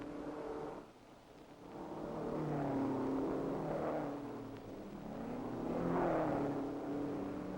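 A 1961 Ferrari TDF race car climbs a closed mountain road in a hill-climb race against the clock, its engine revving up and easing off in repeated surges, moderately loud with no talking.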